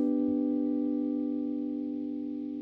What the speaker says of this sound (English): I wanted to create a sound that is, that needs not much playing. That sounds like a pad behind something